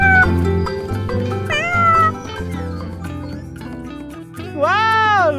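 A cat meows over music in a toy truck scene, with a long rising-and-falling cry near the end. A voice speaks underneath.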